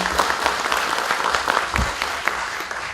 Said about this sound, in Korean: 어려운 걸음 해주신 모두를 위해서 박수로 토론회를 시작하도록 하겠습니다.